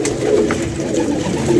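Pet pigeons coo close by in a loud, continuous low murmur while they gather to drink water.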